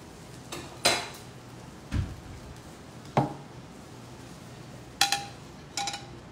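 Dishes and a plate handled near a pan while onion rings are made, with five or six separate ceramic knocks and clinks spaced about a second apart against quiet room tone.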